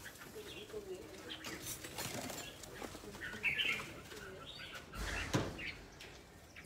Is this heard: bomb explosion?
no